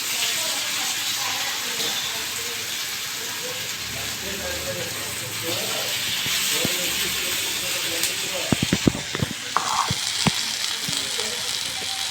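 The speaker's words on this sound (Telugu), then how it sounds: "ఇక్కడ ఆయిల్ అంతా వేసేయాలండి ఇలా చిన్న చేపలు కూడా వేసి వేయించుకోవాలి" Small fish fry in plenty of oil with a dense, continuous hiss and sizzle, joined near the end by a cluster of sharp spatters and clicks.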